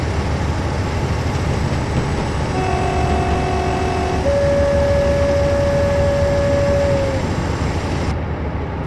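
A train running in Train Sim World 2021, with a steady loud rumble of wheels and engine throughout and a long sustained horn-like tone sounding partway, no voices.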